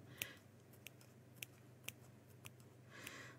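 Sharp scissors snip fabric close to the stitching around a sewn bauble cushion: about six crisp, separate cuts spaced irregularly, quiet and close, with a softer rustling snip near the end and no talking.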